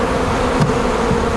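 Honey bees buzz loudly and close as they are swept off a frame into the hive, a dense, steady droning hum with a brief bump of handling noise midway.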